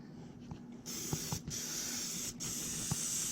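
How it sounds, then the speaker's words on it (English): Canola cooking oil sprays onto the lid of a Gateway drum smoker in three hissing bursts, close and fairly quiet, with small taps and clicks between them. "Then my lid, I'm gonna spray some on that as well."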